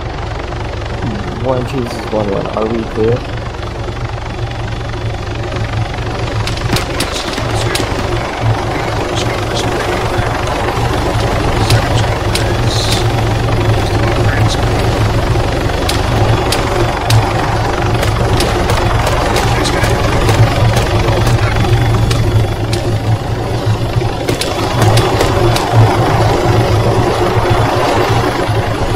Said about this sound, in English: We need the second pilot spinning up his chopper.